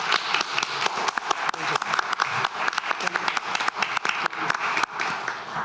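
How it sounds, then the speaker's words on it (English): Audience members at a Zebulon town board meeting clap, a brisk run of individual, close claps from a modest group, with some voices mixed in. "let's clap for you."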